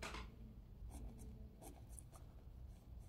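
A pen writing by hand on paper, soft scratchy strokes in short repeated bursts, close and quiet, with no talking.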